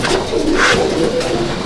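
A male pigeon of a Chennai or Coimbatore breed, held in hand at a loft, gives a low rolling coo up close, with steady background noise.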